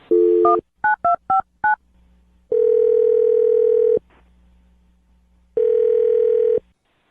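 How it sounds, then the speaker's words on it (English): A telephone keypad taps out a quick run of six touch-tone beeps, then two long ringback tones sound alone with a pause between them. "I'm going to dial Rick's phone number"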